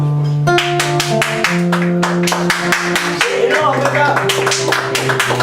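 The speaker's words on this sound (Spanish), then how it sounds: "Si non aplaudimos a Fernanda, ¿quién va a ser" A few people clap in a steady rhythm with sharp, distinct hand claps, close by, over sustained musical tones that shift in pitch.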